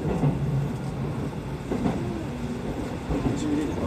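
Electric commuter train at a Japanese station on the line between Tanashi and Tokorozawa, a continuous rumble with clattering and squealing tones, while a station announcement voice talks over it.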